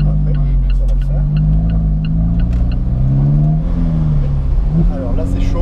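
An Alfa Romeo 4C's engine revs and accelerates on the road, pitch climbing and dipping through gear changes, loud and close with a person talking over it.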